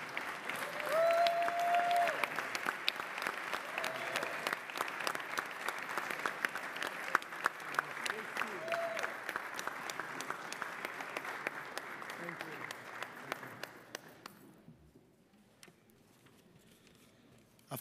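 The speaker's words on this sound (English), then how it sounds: "Let's give Jessica and Steve a big round of applause." A crowd at a New York City Council meeting gives a big round of applause for two people, dense continuous clapping that stops abruptly after about fourteen seconds, leaving near-silence.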